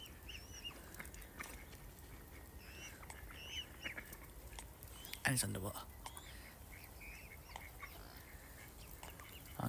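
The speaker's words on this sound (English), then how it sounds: "there's a good duck coming here" A duck on a snowy lake gives faint, scattered quacks at a distance, mixed with outdoor ambience and brief murmured talk.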